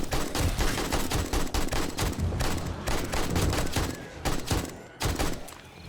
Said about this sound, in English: We are just unloading ammo into him right now.